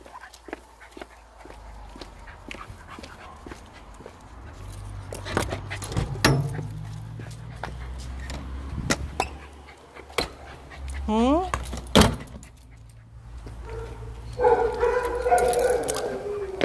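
A dog yips, pants and whimpers in bursts in a backyard setting, with sharp barks and scrabbling footsteps mixed among stretches of a person talking nearby.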